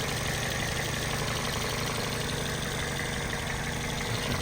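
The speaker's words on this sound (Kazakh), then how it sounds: "16 клапан, VVTi мотор," A 2010 Toyota Corolla 1.8 16-valve VVT-i engine idles with a constant low rumble and faint mechanical ticking, unchanging throughout with no voices.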